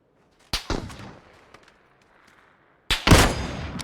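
Two sharp gunshot cracks in PUBG, the first near 0.5 s with a quick double report, the second heavier and longer around 3 s, separated by a quiet stretch of faint ambient noise.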